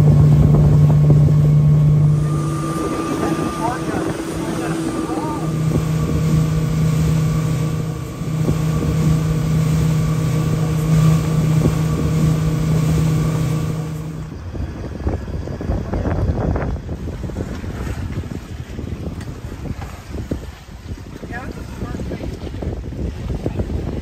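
Motorboat cruising on a lake in Muskoka, its steady engine drone loud and close under heavy wind buffeting, which takes over as the engine fades near the end.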